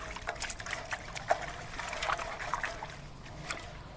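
A water lily plant is lowered into a container of water mixed with Bavistin fungicide, making faint splashes, drips and trickles, with a few brief sharper plops scattered over a quiet background.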